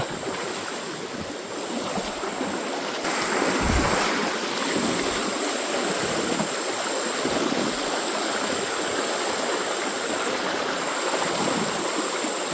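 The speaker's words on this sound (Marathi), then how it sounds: "त्या नदीचा फ्लो इथे येतो पुरा" A river in the Konkan flows fast over rocks, a loud, steady broadband rush of water close by that continues without pause and without any talk.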